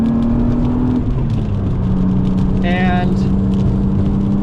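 A high-mileage BMW E36 M3 on Continental DWS06 tires drives a wet track, its engine droning steadily with a shifting pitch as someone talks over it.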